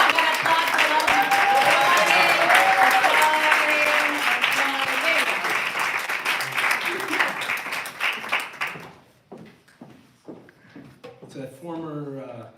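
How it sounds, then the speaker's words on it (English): An audience applauds the featured readers at a literary event: dense sustained clapping that thins to scattered claps near the end, followed by a speaker's voice. "we got applause for all of you"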